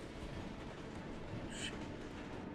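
A train in the video game Final Fantasy 7 Remake gives off a steady, faint low rumble and rolling clatter that continues throughout, with a brief higher hiss partway through.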